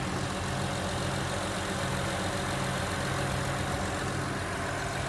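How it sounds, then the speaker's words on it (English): A 2008 Acura MDX engine idles steadily throughout, recorded at the exhaust, a continuous low rumble with an even hum and no voices. "Shot of the exhaust with the motor running, very clean."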